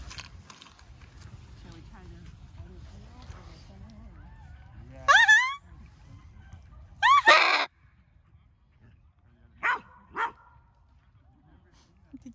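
A dog barks twice in short loud bursts, then two fainter yips follow, outdoors in a park with a low hum of background noise.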